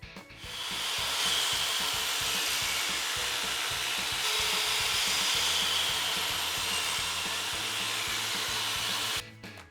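A table saw rips an ash panel into strips, a loud steady whine of blade through hardwood lasting several seconds before cutting off.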